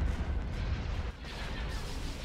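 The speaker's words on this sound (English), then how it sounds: "Open fire on those laser cannons." Cannon fire in the space strategy game Star Wars: Empire at War, a dense barrage of rumbling booms and blasts layered over each other for a couple of seconds.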